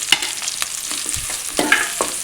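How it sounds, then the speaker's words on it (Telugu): Onion and tomato pieces frying in a pan, a close crackling sizzle with several distinct spatula scrapes and taps as the pieces are stirred. "తర్వాత టమాటా ముక్కలు కూడా వేసి వేయించాను."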